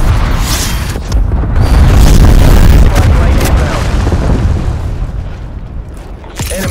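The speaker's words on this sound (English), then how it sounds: "Enemy cruise missile launch detected." In Call of Duty: Black Ops Cold War, a cruise missile strike explodes in a loud, sustained, rumbling boom that rolls on for several seconds with crackling debris on top.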